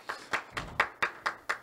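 Clapping at a high school geometry bridge-building and breaking finals: seven crisp, evenly spaced hand claps in a steady rhythm, fairly close and sparse rather than a full crowd.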